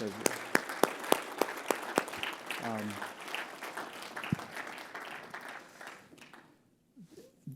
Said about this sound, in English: let's hear a hand of applause for these guys